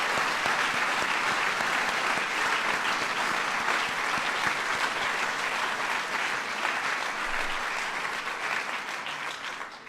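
A large audience at a presidential award ceremony honoring volunteer service breaks into loud, sustained applause, a dense wash of clapping that holds steady and tapers only slightly toward the end.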